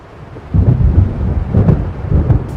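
Low rumbling thunder rolls in repeated swells over steady rain in the video game Alan Wake, a loud, heavy storm with no voices.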